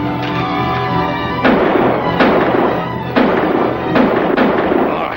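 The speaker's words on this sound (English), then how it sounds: "Stop shooting at shadows before you slaughter each other." Gunfire in an old western, a run of loud sharp cracking shots spaced about a second apart, each with a rolling echoing tail over a constant rumbling background.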